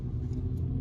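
A BMW 320d pulls hard on the autobahn, a brief low, steady rumble of engine and road noise heard from inside the car.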